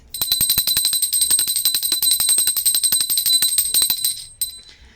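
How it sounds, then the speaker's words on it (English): A small handbell rung rapidly and continuously, bright overlapping chimes for about four seconds before the ringing stops and fades, close and clear with no talking. "I ring this adorable little bell"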